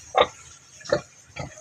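A pig grunting three times in short, evenly spaced bursts, fairly close and alone against a quiet background.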